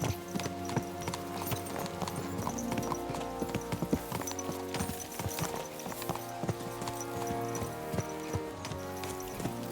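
Horse hooves clip-clop steadily on a road in Kingdom Come Deliverance 2, a brisk repeating trot of several animals heard close and continuous, with faint harness jangle.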